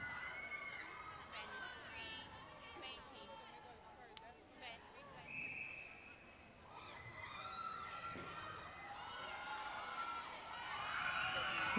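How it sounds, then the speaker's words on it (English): Crowd at a youth netball match cheering with delight, a broad steady roar of voices from the stands rising toward the end, with commentary talk over it. "We can hear the crowd delighted with that."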